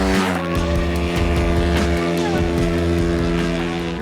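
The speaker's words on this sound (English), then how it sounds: "installing an FMF PowerCore 4 pipe on my X7 Super Pocket bike" An X7 Super Pocket bike engine fitted with an FMF PowerCore 4 exhaust idles and revs steadily, a loud, close, buzzing drone with a rapid pulsing rhythm throughout.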